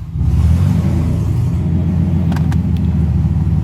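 A Mercedes SL600 with open headers and no exhaust revs hard up close, a loud deep rumbling roar holding steady after a quick rise, with faint higher clicks near the end.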